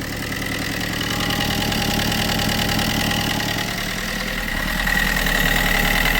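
A Fiat Multijet diesel car engine idles steadily nearby after repair, with a continuous even rumble and no voices, running smoothly throughout.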